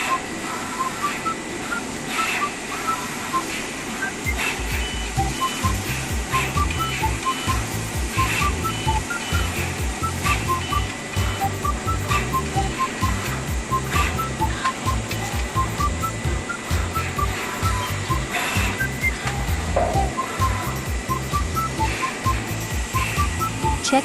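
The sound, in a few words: CHM-861 pick and place machine mounting PCB components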